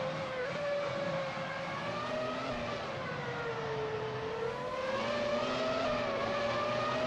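Race car engines from a racing video game, among them a Jaguar 01 and a Sauber C19, drone steadily and loudly with sustained tonal whine that rises and falls gently throughout.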